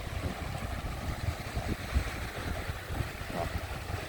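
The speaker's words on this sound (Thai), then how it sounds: "เหมือนน้ำที่ไหลมาปะทะกันนะครับ" Waves meeting and colliding in the water at Chao Lao beach in the evening, a steady soft wash of surf with gusts of wind on the microphone, fairly faint and continuous, no voices.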